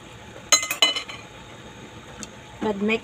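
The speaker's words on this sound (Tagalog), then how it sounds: "Kaya takpan natin siya para maluto." A pan of adobong kangkong with shrimp being covered, with a cluster of sharp metallic clinks and clatters of lid on pan near the start, then a brief tap and a short voice near the end.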